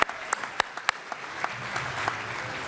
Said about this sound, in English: let's go ahead and give a round of applause to George Phelps from Curtis High School.